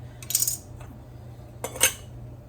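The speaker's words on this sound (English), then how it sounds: "So now we're simply going to ladle the brine on top of the vegetables." Brine ladled over vegetables in canning jars for pickled peppers: two short bursts of splashing liquid and metal ladle clinks, close and fairly quiet, with no talking.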